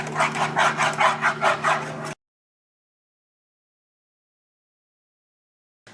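A steady rhythmic scraping of a spoon against a saucepan while stirring cream, about seven strokes in quick succession, then sudden silence.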